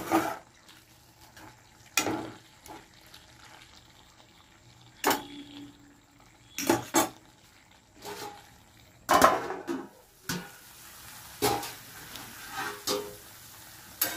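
Spiny gourd and potato pieces being stirred in a covered pot, sharp intermittent spatula scrapes and clanks against the metal over a faint simmer, close and irregular.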